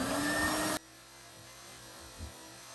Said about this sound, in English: I'm gonna vacuum the most I can.